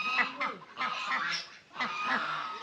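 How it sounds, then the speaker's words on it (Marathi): Several foreign-breed ducks quacking and honking in repeated bursts, fairly close, with a brief pause partway through. "हे डक आहे वेगवेगळ्या प्रकारचे"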